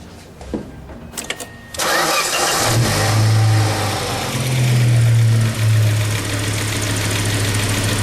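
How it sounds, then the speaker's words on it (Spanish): A car engine cranks briefly on the starter motor during a starter test with a Launch BST 460 battery tester, then catches and settles into a loud, steady idle with a couple of small rev swells, close by and without talk. "Nos pide arrancar el motor, lo hacemos en este momento."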